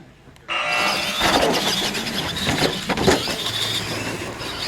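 A Bigfoot monster truck makes a fast run in a racing competition: an engine bursts to life after a moment of quiet and roars loudly and close, surging and revving throughout.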